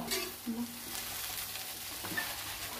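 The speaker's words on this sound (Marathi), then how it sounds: "फोडणीमध्ये पोहे टाकून घेतलेले आहे। ते आता हे छान हलवून घ्यायचे आहे।" Poha being stirred into a hot tempering in a pan, a soft low sizzle with light scraping strokes and faint clinks, fairly quiet and close.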